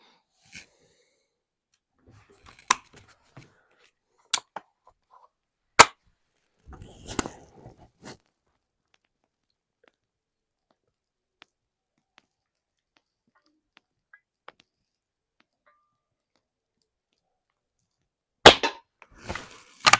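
An air rifle fires weight-sorted pellets during an accuracy test, giving sharp, isolated snaps and cracks spread across long quiet stretches, with a closer burst of clicks near the end.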